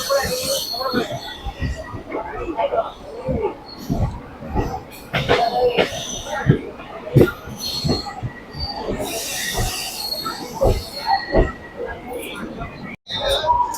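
A local train from Howrah to Puri rolls along steadily with rumbling wheels and metallic clatter, close by, while voices talk over the running noise.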